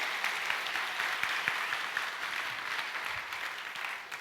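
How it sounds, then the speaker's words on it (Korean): A church congregation applauds steadily after a musical performance during a Sunday sermon service, a dense, even patter of many hands that holds at a moderate level and eases slightly toward the end, with no talk over it. "박수 한번 해주세요"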